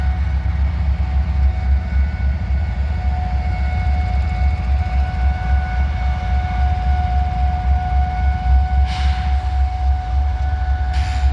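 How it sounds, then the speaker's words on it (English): An SCWX coal train rolls past in Abbeville with a loud continuous low rumble and steady tonal squeal from rubbing brake shoes, a few hissing bursts near the end. "I think this is the SCWX coal train"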